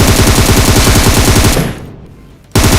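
Rapid bursts of video game gunfire with an M24 sniper rifle, loud and close, a dense stream of shots that cuts out into near silence and then resumes abruptly.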